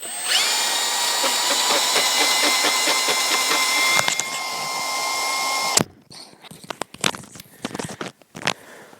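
A Cabela's EZE battery-powered ice auger drill whines loudly at a steady pitch for several seconds, then cuts off, followed by scattered clicks and knocks.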